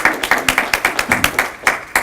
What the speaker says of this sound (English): You're allowed to applaud.